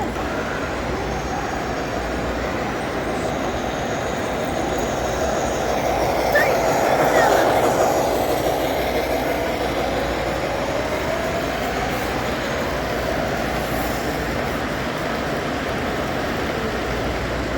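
American Flyer Gilbert S gauge model trains run on an all-S-gauge show layout, a continuous rumbling clatter of wheels on track with occasional faint squeals and a swell in the middle, amid the murmur of a crowded hall.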